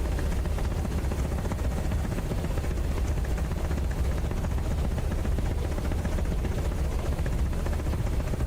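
Helicopter engine in Microsoft Flight Simulator 2024 on PS5, a loud steady drone with rapid rotor chop, continuous and close, with no talk over it.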